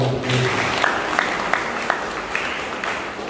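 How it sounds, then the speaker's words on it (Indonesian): An audience at an Easter gathering in a meeting hall in Jombang applauds; a steady wash of clapping continues at moderate loudness, with a few sharper claps standing out and faint speech underneath. "Berikan tepuk tangan."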